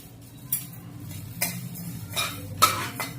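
Cumin seeds tossed into a hot, dry kadhai with coriander and fennel seeds already roasting, stirred with a metal spoon: a few sharp scraping clinks against the pan over a low, steady rustle.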